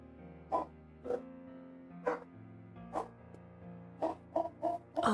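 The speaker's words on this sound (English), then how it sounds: "Dogs be screaming." Dogs bark outside in a series of short, muffled barks and yelps heard from a distance, spaced irregularly and then quickening into a cluster near the end, over a steady indoor hum.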